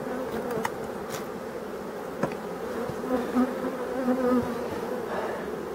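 Bees buzzing around an abandoned hive in a forest, a steady close droning hum with occasional louder passes of individual insects and no voices.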